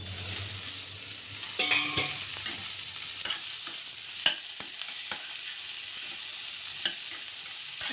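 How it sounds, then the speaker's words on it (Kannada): Beans frying in a pan while a spoon stirs them, a steady close sizzle broken by scraping and clinking strokes against the pan, with no voices. "ಇದೊಂದು 2-3 ನಿಮಿಷ ಹಂಗೆ ಫ್ರೈ ಮಾಡ್ಕೊಳ್ಬೇಕು"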